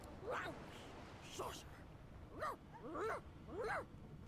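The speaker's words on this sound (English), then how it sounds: "The dog whines and continues pawing at its nose." A dog whines in the video game Divinity Original Sin 2, five separate whimpering cries over a quiet background, fairly faint and close.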